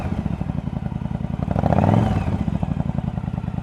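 A 1999 Yamaha V Star 1100 Custom motorcycle engine idles with a steady chugging pulse, then rises briefly in a revving whine before settling back down.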